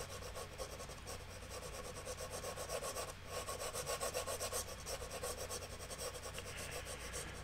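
A 3H pencil rasps steadily across paper in a soft, close, continuous scratching rhythm as light tones are shaded into a street scene drawing.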